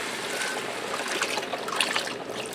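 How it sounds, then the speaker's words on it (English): Beef broth is poured into a pan for hamburger gravy, making a brief, steady close-up trickle and splash of liquid. "I'm going to add in some beef broth."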